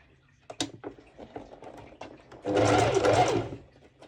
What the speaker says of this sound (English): and then I'm going to do a bust stitching first